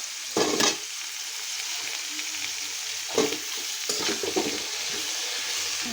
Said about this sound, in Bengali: পেঁয়াজটা আমি একটু হালকা ভেজে দিয়ে নেবো